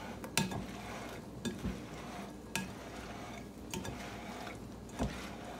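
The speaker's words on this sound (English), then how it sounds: "So I'm going to go ahead and start to stir that up" Turkey taco pasta is stirred in a pan, giving a soft sizzle broken by several distinct scrapes and clinks of the spoon against the pan, fairly quiet and without talk.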